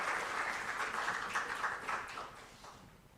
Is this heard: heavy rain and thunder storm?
no